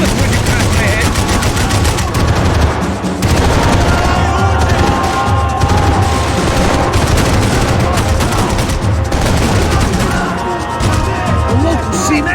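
Dense gunfire from Max Payne 3, sustained bursts and volleys filling the whole stretch, loud and close, with brief gaps and crashing impacts mixed in.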